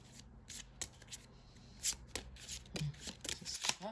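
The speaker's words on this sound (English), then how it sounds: "So I'm going to shuffle." Tarot cards being shuffled by hand in a quiet room, a series of crisp riffling bursts and soft slaps coming close and fairly loud, with no talk.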